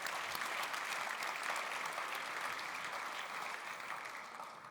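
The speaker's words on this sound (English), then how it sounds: "Big round of applause" Audience at a conference startup slam final applauds in a steady, dense round that holds strong and then slowly tapers, with no voices over it.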